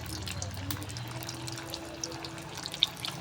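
Cabbage pakoras dropped into hot oil, a soft continuous sizzling hiss with a few small pops, heard faintly under a voice talking.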